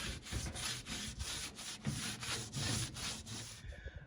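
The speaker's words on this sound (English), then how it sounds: "I just did a little bit of Scotch-Brite pad, some wet sanding, some soap and water" Steady back-and-forth scrubbing of a Scotch-Brite pad across the painted panel of a 1930s antique gasoline pump during wet sanding with soap and water, a close, even rubbing rhythm of roughly two strokes per second that stops just before the end.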